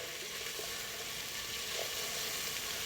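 Onions browning in a hot pan give off a steady, even sizzle that stays at the same level throughout, close and continuous, with no voices over it.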